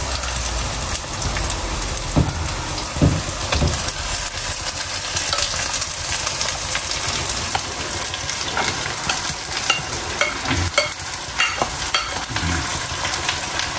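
Pre-boiled shark meat for sura puttu fries in a pan with a dense, continuous crackling sizzle, broken by scraping stirs and spatula clinks close by, with no talking.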